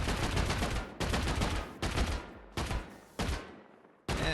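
Explosive rounds fired one after another at a metal wall in the survival game Rust: about six loud, booming blasts at roughly even intervals, each trailing off in a long ringing decay, with no talking.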